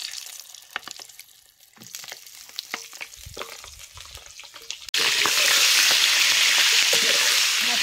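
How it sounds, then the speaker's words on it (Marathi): Stuffed green chillies drop into hot oil seasoned with mustard seeds, cumin and turmeric, and a loud, steady, close sizzle suddenly takes over after a few quieter stirring clicks and taps. "तेला जरा भरलेल्या मिरच्या भाजून घ्यायच्या."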